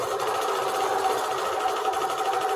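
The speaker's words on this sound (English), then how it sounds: "We are just going to stitch all the way across." A sewing machine runs steadily as it stitches across fabric, a close, even mechanical whir and rapid needle chatter holding constant throughout without pauses or talking.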